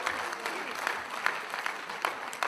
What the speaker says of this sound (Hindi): कुछ लोग हैं उनकी जोरदार तालियां बजाइए।